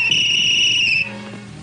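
A single sustained shrill whistle blast sounds for about a second, near and loud, then cuts off leaving faint background noise.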